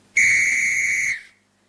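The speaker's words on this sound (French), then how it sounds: "fait un son avec un sifflet." A single sharp, shrill whistle blast lasts about a second, loud and close, then cuts off into silence.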